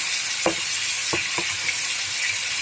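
Steady bright sizzle of chicken frying in a pan for degi korma, with a few soft knocks of stirring, close and continuous.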